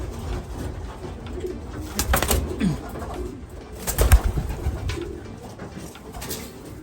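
Racing pigeons back home after a 734 km race coo softly and repeatedly, with a few brief wing flutters, against low background rumble.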